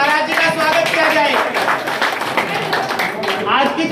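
Clapping from an audience welcoming a spiritual guest at a community birthday gathering, with chatter and voices mixed over a steady, busy patter of hands throughout.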